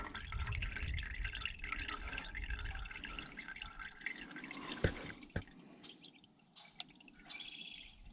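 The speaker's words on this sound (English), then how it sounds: "I'll let that drain out" Engine oil draining from the drain plug hole of a Can-Am Defender XT HD8/HD10 side-by-side into a pan: a steady liquid trickle and drip with a few sharp clanks and taps, close and alone with no talk.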